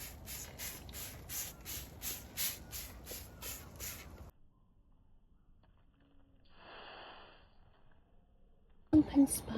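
A hand spray bottle mists dry lettuce seedlings in a garden seed box, a rapid series of about a dozen short, close hissing spritzes, followed by quiet.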